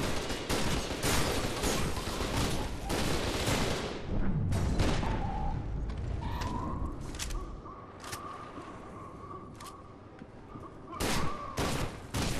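A firefight in the shooter video game F.E.A.R. 2, with sharp gunshots cracking in clusters, dense at first, then sparser amid a low whining tone and ambient rumble, before another burst at the end.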